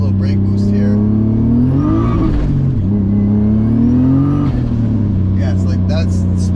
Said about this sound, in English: so I'll do a little brake boost here